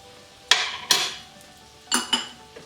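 A spoon clinks and scrapes against a metal pot while butter is stirred into cooked urad dal and rajma lentils, several sharp knocks in quick pairs with quiet gaps between.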